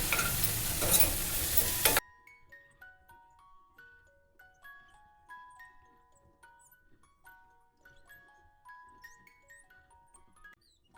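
About two seconds of hissing, sizzling oil as peanuts are stirred into a tempering in a pan, then it stops and a soft, slow chiming melody plays alone.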